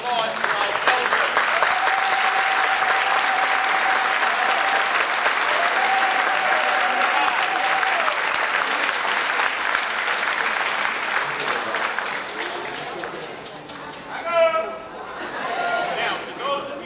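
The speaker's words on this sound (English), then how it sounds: "I would like to give applause to our elders" Sustained applause from a crowd for the elders at a DanceAfrica celebration at BAM, loud and steady for many seconds before fading as a voice begins.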